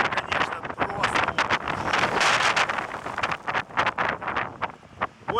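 Strong gusting wind of about 25 metres per second roars and buffets the microphone on a sandy shore, loud and continuous with sharp bursts of blowing sand.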